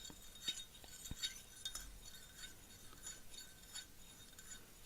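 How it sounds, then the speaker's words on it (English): A spoon clinks against the inside of a cup while stirring, with a handful of light, irregular taps spread across a few seconds. The sound is faint and close over a quiet room hiss. "So I'm taking the spoon now and I'm placing it into the cup,"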